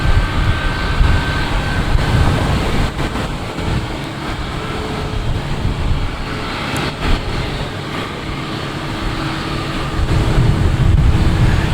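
An airliner takes off at Boston Logan Airport, a rumbling, wind-buffeted engine roar that holds steady for several seconds, dips slightly mid-way, then swells louder again toward the end.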